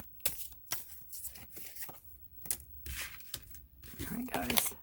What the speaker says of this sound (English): These cards are just a dream to shuffle.